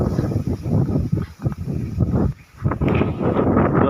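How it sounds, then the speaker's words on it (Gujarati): Gusting wind blows dust across an open field of millet, buffeting the microphone with loud, uneven surges and brief lulls, close and rough, with no voices. "એમ પવન જો સામે પણ ડમરી ઉડીને આવે છે"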